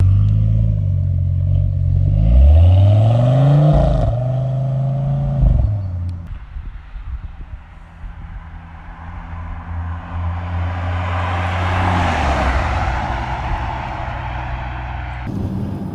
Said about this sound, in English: V10 kicks to life